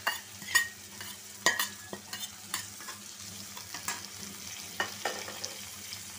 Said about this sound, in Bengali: তারপরে দিব পেঁয়াজ কুচি, কাঁচামরিচ কুচি